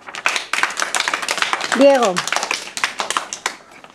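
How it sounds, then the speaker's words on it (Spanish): Children in a classroom clap in a scattered, uneven burst of individual claps close by, with a voice rising briefly in the middle and talk carrying on around the clapping. "Bueno, pues muy bien, un aplauso."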